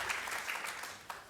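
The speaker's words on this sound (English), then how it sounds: "Let's give all our speakers a round of applause" An audience at a debate gives its speakers a round of applause, a brief burst of moderately loud, steady clapping.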